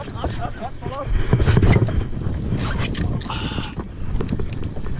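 A motorboat accelerating on open sea while chasing tuna, its engine roar and wind rush rising and staying loud, with splashing water and voices talking over it.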